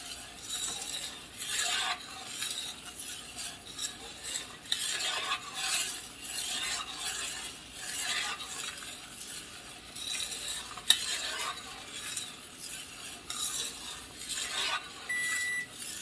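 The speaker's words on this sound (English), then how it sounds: "Just keep stirring it until all this foam goes away." A pot of boiling elderberry and blackberry jam with butter added, stirred steadily with a utensil. Close, continuous bubbling hiss with repeated scraping sweeps, moderately loud, no talking.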